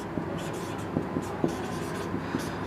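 Marker or chalk taps and scratches on a board during a chemistry lesson on metals and non-metals, a series of light, irregular strokes and clicks heard close up beneath a low room background.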